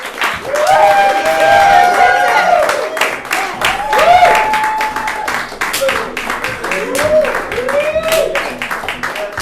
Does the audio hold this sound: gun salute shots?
no